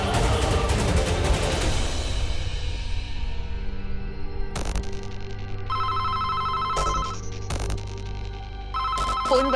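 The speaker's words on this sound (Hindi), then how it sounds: "फोन बज रहा है।" A telephone rings in a repeated electronic ringtone pattern, starting over a loud busy mix of music and effects that fades, then sounding more clearly in separate bursts with short gaps.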